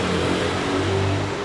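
A Solis 50 hp tractor engine revs in a steady, loud drone with low rumbling harmonics, running continuously close by without any talk.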